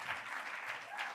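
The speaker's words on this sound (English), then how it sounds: "an even more phenomenal round of applause and whooping and noises and guttural sounds, please, for Dublin and Carmack" Crowd applause mixed with whooping at a live poetry slam event, a steady dense wash of clapping and cheers throughout, fairly distant and even in loudness.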